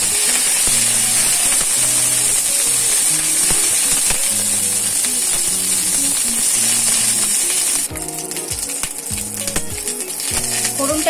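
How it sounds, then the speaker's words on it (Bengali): Whole cumin, panch phoron, mustard seeds and three dried chilies sizzle in hot mustard oil in a wok, a bright continuous crackle with repeated low tonal hum and a sharper burst of spitting near the end. "কড়াইয়ে সরিষার তেল দিয়ে আমি এখন দিয়ে দিব গোটা জিরা, পাঁচফোড়ন আর গোটা সরিষা"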